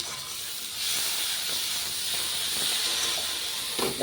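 Ginger garlic paste hits a hot pan and sizzles loudly, a steady broad hiss that swells after the first second and holds, with faint clatter near the end.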